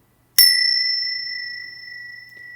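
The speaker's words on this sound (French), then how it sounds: "je vais scander comme d'habitude avec ces petites cloches" A single small meditation bell is struck once, ringing with a clear, pure tone that sustains and slowly decays over a couple of seconds in otherwise near silence.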